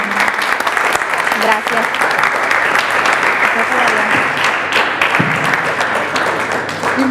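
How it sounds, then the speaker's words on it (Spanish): Audience applauding after a doctor's talk on nutrition and the brain, continuous loud clapping throughout with a brief spoken thank-you and some low voices underneath. "Agradecemos por favor con un fuerte aplauso a la participación de la doctora."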